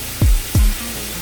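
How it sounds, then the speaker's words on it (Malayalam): Coriander and mint leaves sautéing in a hot pan for Kozhikodan dum biryani: two close stirring scrapes with soft thuds ride over a low, steady sizzle, with no talk. "ഇതും നമുക്ക് 1 മിനിറ്റ് ഒന്ന് സോട്ട് ചെയ്യാം"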